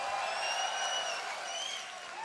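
A tournament crowd cheers for StarCraft 2 players, a loud, continuous roar of voices and applause that fades slightly toward the end.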